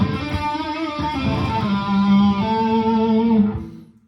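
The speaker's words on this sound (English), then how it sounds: "Brit Plexi distortion." Electric guitar played through the Brit Plexi distortion model of a Mooer GE150 Plus Li, with a few loud, crunchy sustained chords that swell and then decay over several seconds, heard alone.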